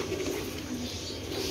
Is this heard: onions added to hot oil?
no